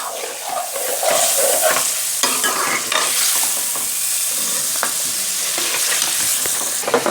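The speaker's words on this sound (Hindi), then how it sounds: "मिसालों में हम आलू को अच्छी तरह भून लेंगे।" Potatoes frying in spices in a pan, with a steady loud sizzle and the scrape and clatter of a spoon stirring, close up and without talk.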